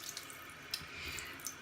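Water runs steadily from a tap over a Naniwa Gouken Hayabusa 4000 whetstone as it is rinsed, a faint, even splashing with a few small drips.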